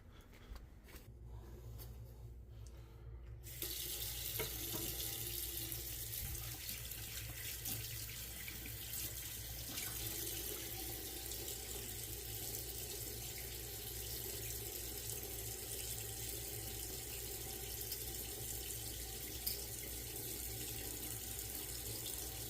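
Tap water runs steadily into a sink while battery parts for a homemade lithium-ion pack are rinsed, a constant close splashing stream after a brief quieter start.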